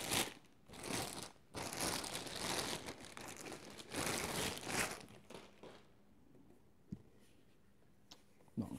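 Plastic packaging crinkles and crunches as a Bluetooth speaker is unwrapped, with close rustling bursts for several seconds before fading to near silence with a few small taps.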